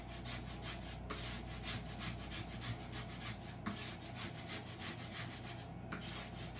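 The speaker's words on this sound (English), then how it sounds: "I'm just scraping that paste off." Chalk paste scraped off a stencil with steady, rhythmic rubbing strokes, close and continuous for several seconds, with no talk.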